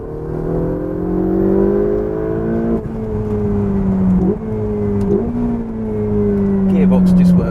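A Ferrari 488 GTB engine pulling hard under acceleration, a loud steady drone rising in pitch through several gear changes with brief dips between shifts, heard close from inside the car over constant road and wind noise.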